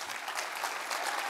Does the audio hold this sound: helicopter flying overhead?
no